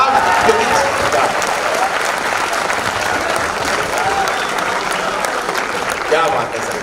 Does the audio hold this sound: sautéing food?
no